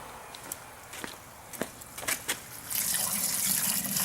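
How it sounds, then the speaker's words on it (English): Gasoline draining out of the fuel system of a common-rail TDI diesel engine that was filled with gasoline, heard as intermittent drips and splashes that give way to a steadier stream of liquid pouring near the end. "Definitely have fuel coming out."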